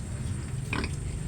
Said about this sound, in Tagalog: para mailipat natin agad itong ating mga dumalagang baboy